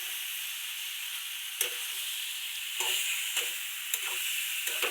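Brinjal and potato pieces steam-cooking in oil, a constant close hiss with a few brief crackles and soft pops breaking through.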